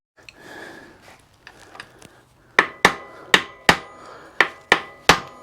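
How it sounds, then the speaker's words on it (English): Eight sharp metallic hammer strikes on a screwdriver ring out in a fairly even rhythm, preceded by softer scraping and tapping with tools, close by, while building an electric bike. "I can just use a screwdriver and a hammer"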